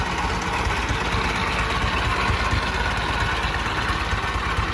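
A 1913 Overland car engine idles after being cranked, with a loud, close, steady throbbing rumble and fine rapid pulsing that continues unbroken.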